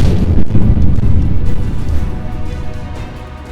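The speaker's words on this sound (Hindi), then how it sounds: "लेकिन लोगों के हाथ पांव तब फूल गए जब ट्रक में धमाके होने लगे।" Explosions from a burning truck: a loud, booming blast rumbles up, followed by a quick second pop and a crackling, fading roar, close and heavy.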